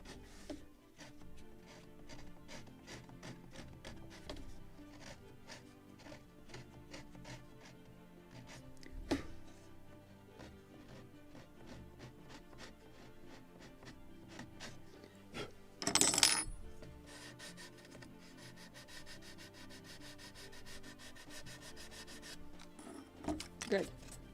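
Dried glue scraped off the hull of a model of the 1776 gunboat Philadelphia, a long run of close, quiet rasping strokes with a few sharper knocks and one louder scrape.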